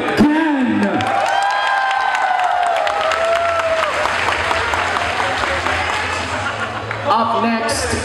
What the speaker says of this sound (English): Please give a big round of applause to Liquid Ken!